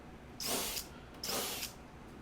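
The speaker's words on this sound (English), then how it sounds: "I should probably pre-drill this before I stick it in the glue" Two short bursts of a power drill, each about half a second, close by with a hissing, high whine and a pause between them.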